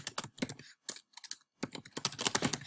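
Fingers type on a computer keyboard in quick irregular bursts of close, crisp key clicks, broken by a short pause before another fast flurry.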